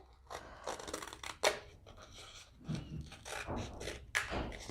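Scissors snip paper around a cup handle in short, close crisp cuts and rustles, with some paper handling between snips.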